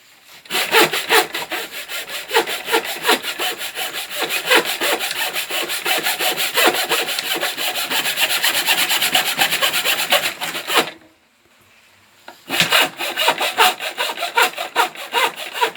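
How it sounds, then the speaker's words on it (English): A handheld miter saw cuts wooden stool legs with rapid, rhythmic rasping strokes, loud and close, pausing for about a second and a half before the sawing resumes. "I am going to be using my handheld miter saw to cut these"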